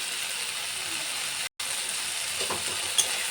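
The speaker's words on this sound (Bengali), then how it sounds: "মশলাটা ভালো করে ভাজা হচ্ছে" Cumin, Kashmiri chili and coriander powders fry in a pan for egg curry, giving a steady close sizzle with faint stirring scrapes near the end.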